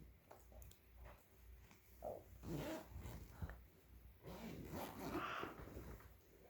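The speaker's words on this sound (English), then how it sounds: "Oh, zipper." A zipper on a dog bag with a toddler inside is pulled in a few short, scratchy bursts, quiet and close, with faint rustling and the soft sounds of a dog nearby.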